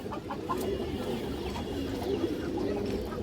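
Soft repeated coos come from pigeons kept at close range, with a faint clucking fowl mixed into a constant low background.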